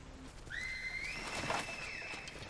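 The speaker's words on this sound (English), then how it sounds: "Oh, that's an aggressive whistle." A sharp, aggressive rising whistle from The Last of Us TV series episode The Path, one long sliding tone that climbs and holds for about two seconds over a low background.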